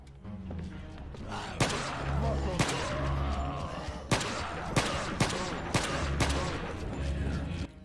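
Pistol shots from the game Resident Evil 4 with the Rising of Evil mod, several sharp isolated cracks spaced irregularly over a busy game background, with someone talking throughout.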